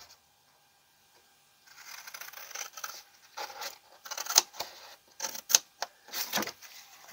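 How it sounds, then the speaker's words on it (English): Scissors snipping through 12 x 12 cardstock along cut lines for a DIY treat gift basket box, a run of short, crisp close cuts with rustling of the card after a brief silence, no talking. "So all we need to do is cut these 4 cut lines"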